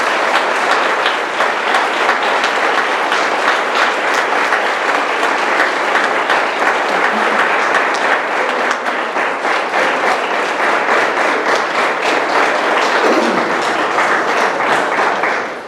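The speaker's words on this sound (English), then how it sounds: "I would like for you to give him a huge round of applause for this award." Sustained, dense applause from a large audience honoring award recipient Michael Williamson, loud and steady throughout with no pauses, cheering mixed into the clapping.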